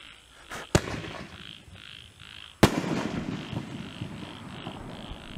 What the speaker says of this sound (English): It's nine shots, by the way, but it's really good.